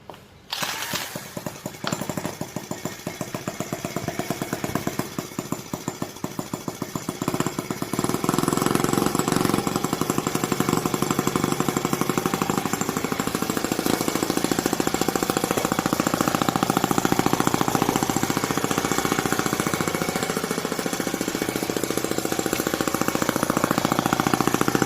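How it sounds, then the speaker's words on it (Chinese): A toy petrol tractor engine is revved on the throttle: a sputtering, uneven start gives way after a few seconds to a loud, steady, high-pitched buzzing roar that holds and swells slightly, close by, with no talk. "加大一下油门"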